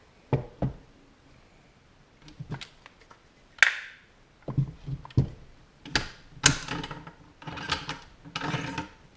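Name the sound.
bolt being removed from Ruger Precision Rifle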